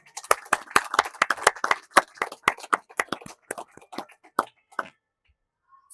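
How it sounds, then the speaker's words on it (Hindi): Audience at a Christmas conference in Punjab claps in a brief, uneven burst of sharp individual claps that thin out and stop, leaving near silence at the end. "तो आप लोग अपने लिए भी ताली बजा सकते हैं कि आप लोग यहाँ पर मौजूद हैं"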